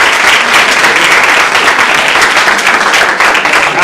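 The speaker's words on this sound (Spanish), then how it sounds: "Lo recibimos con un fuerte aplauso." A full audience claps loudly to welcome a philosophy lecturer to the stage, dense and sustained applause close to the listener that holds steady for nearly four seconds.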